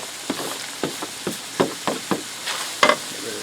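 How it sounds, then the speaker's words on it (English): Diced onion is added to browned ground beef in a skillet over lowered heat, giving a soft sizzle with repeated scraping stirs of a utensil against the pan, close and fairly quiet. "I'm going to add in that onion we diced up."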